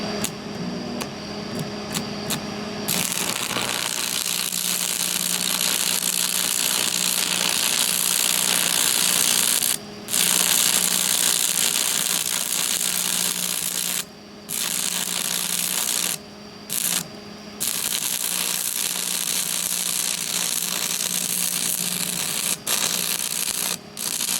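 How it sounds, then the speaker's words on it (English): Stick welding on an exhaust bracket of a 1989 Jeep Cherokee makes a loud, steady crackling hiss that runs for long stretches, broken by a few short gaps where the arc stops. "Stick welding at that."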